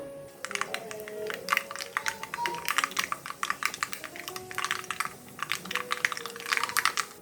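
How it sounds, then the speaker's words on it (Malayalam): Mustard seeds spluttering and popping in hot coconut oil for a Kerala-style mutton pepper roast, a dense irregular stream of sharp crackles and pops, close and fairly loud, with no talking. "വെളിച്ചെണ്ണ നന്നായിട്ട് ചൂടായി വരുന്നുണ്ട്. ഞാനിതിലേക്ക് കടുക് ഇട്ട് കൊടുക്കുകയാണ്."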